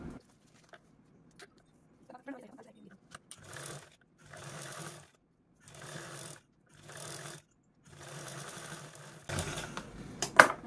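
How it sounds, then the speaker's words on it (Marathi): Sewing machine stitching a zipper, running in five or six separate bursts of steady mechanical whirring with short pauses between them, a few faint clicks and handling sounds at the start, and no talking. "तर चला आता आपण ही झिप पण स्टिच करूया।"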